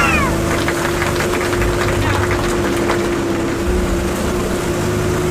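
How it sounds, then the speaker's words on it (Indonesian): Loud, steady engine drone of a speeding intercity bus on the Labuan–Kalideres route pushing on along a downhill road, with a constant low rumble, road noise and a brief rising whine at the start. "Asli ini jalan menurun gak direm, tapi kok malah digas."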